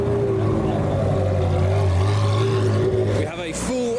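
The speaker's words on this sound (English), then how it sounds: "We now have revolutions from another Ferrari 360." A loud Ferrari 360 revs at a car meet, its engine note climbing and holding before it cuts off sharply, with a short burst of noise near the end.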